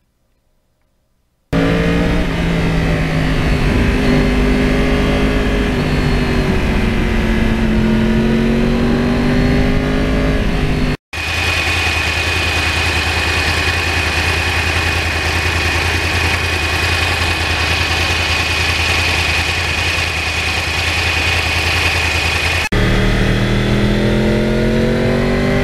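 A 2009 Yamaha R1 crossplane motorcycle engine runs loud and close for about 25 seconds, shifting between idle and revving with a steady, throaty hum that cuts out briefly partway through.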